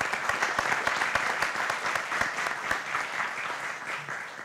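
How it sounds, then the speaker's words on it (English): Sustained applause from a conference audience fills the room, dense clapping steady and fairly loud throughout with no talk over it. "we should give them a round of applause"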